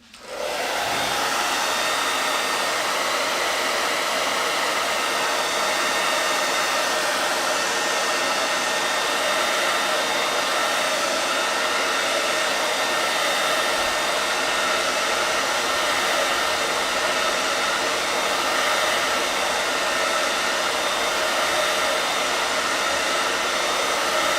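A hair dryer blows steadily and loudly at close range for the whole stretch, drying a chalk paint craft project; the airy whir starts abruptly and holds an even roar with no voices.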